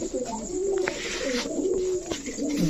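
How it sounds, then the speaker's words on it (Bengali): Rampuri pigeons, a male and a female, coo close by in repeated low, rolling phrases, loud and clear over a faint background hiss. "এখন দেখাবো রামপুরি ফ্যাটের কবুতর"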